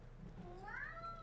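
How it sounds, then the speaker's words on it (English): A single cat meow rises and bends in pitch, faint and somewhat distant over a quiet low background hum. "That cat definitely wants dinner."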